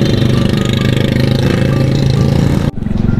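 A motorbike engine runs loudly and close, a steady throbbing idle-like drone that fills the clip before abruptly dropping in level near the end as the ride continues.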